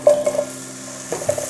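Potatoes being stir-fried in a pan give off a soft, continuous sizzle, with a few quick utensil scrapes and clicks against the pan at the start and again near the end.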